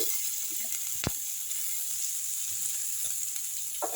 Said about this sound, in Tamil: நல்லா வதக்கிடலாம் ரெண்டு நிமிஷம் வதங்கட்டும்